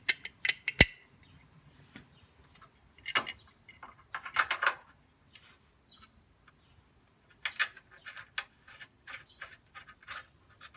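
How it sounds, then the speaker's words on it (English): Wrench ratcheting as horn mounting bolts are tightened under a VW Vanagon, a series of close, short clicking bursts separated by pauses. "Tighten it up with our wrench."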